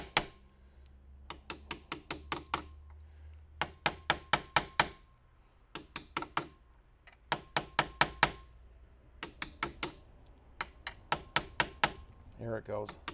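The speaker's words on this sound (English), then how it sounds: "I'm not really swinging this hammer" Light hammer taps on a Mauser Gewehr 1898 rifle come in quick bursts of sharp metallic knocks with short pauses between them, close and crisp, with a low background hum.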